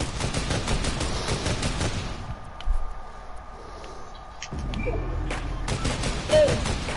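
Rapid gunfire in the video game Fortnite, dense bursts of shots in the first two seconds, then quieter game sounds and more firing near the end, with a faint hum underneath.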